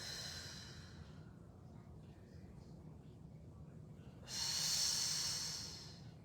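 A person exhales during a glute exercise with a resistance loop, a soft, close breath near the start, then a louder, airy rush of breath late in the clip against quiet room tone.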